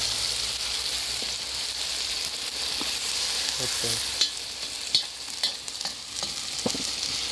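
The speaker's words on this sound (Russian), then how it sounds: "жарится на казане, на костре." Beef, potatoes, bell pepper and onion fry in sunflower oil in a kazan over an outdoor campfire, with a steady loud sizzle and a few clinks from stirring. A voice speaks briefly.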